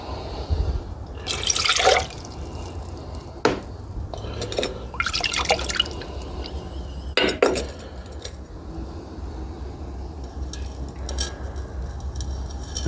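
Refined gold gets rinsed with water in a dish, with splashing pours, dripping and a few clinks of metal against the vessel in several bursts, separated by quieter stretches of trickling.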